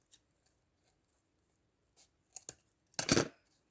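Scissors snip through a paper cup being trimmed straight for an autumn decorative basket craft, a few faint clicks and then one short, loud crisp cut near the end, close up with no talking.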